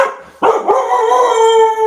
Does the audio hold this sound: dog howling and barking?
yes